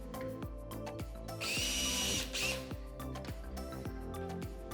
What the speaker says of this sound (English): Made a little mark with the drill, moved the pulley out of the way, and continue drilling